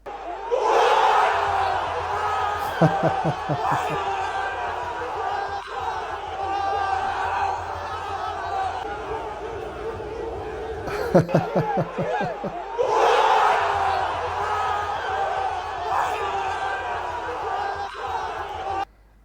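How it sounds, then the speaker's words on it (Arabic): A stadium crowd of football fans, Moroccans and Algerians together, roars in celebration of a goal, with loud sustained cheering that comes in waves and breaks for brief pauses. "هذا الفيديو ديال الهدف غادي تشوفوا الفرحه ديال الجماهير"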